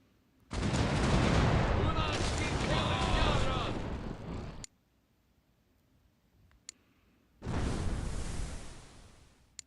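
Two loud, booming ship cannon blasts from the game The Pirate: Caribbean Hunt, the first long and rumbling with a whooshing tail, the second after a short pause, with faint clicks between.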